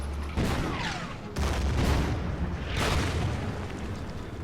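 Artillery fire from a Stu-42 unit in the World War II strategy game Order of Battle, heavy booming blasts in three distinct bursts, each with a rumbling decaying tail, loud and alone without talk.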